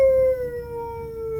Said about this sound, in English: and just this chorus of like wolf howling.